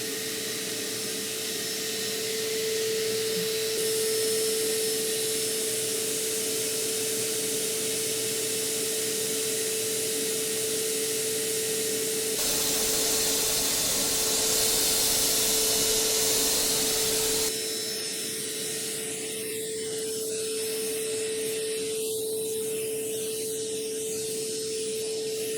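A DeWALT stainless steel 10-gallon wet/dry shop vacuum runs continuously with a steady whine and rushing air, changing pitch and strength partway through, nearby and loud.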